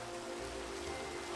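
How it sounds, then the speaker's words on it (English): Steady rain falls in a Minecraft world, a dense, even hiss of drops with no talking and no breaks. "Does it just rain anytime I go into one of these places?"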